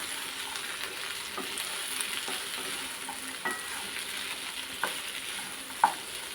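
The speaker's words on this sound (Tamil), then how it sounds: "சுண்டக்காய் சேர்த்து நல்லா வதக்கிக்கலாம்" Turkey berries sautéing in a pan for a thogayal, a steady soft sizzle with occasional stirring clinks and scrapes close by, no talking.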